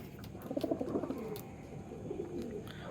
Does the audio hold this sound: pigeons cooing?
yes